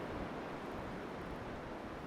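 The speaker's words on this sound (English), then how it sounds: "I love being by the ocean." Ocean waves at a beach with big sand dunes, a soft, steady broadband rush of surf heard faintly from a distance, continuous with no talk.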